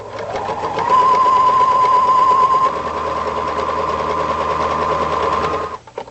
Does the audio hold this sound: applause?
no